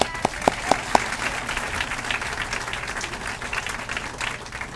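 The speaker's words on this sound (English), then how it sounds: "Give them a round of applause." At a high school academic awards night, the audience applauds the guidance staff. A few sharp claps come first, then a steady round of clapping from a sizable crowd.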